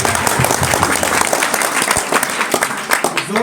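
Loud, dense applause from a crowd at a school English-word antakshari competition, sustained clapping filling the room with a few sharper individual claps standing out.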